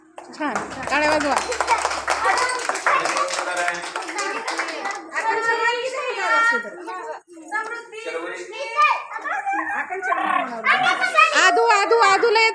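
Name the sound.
audience clapping at school event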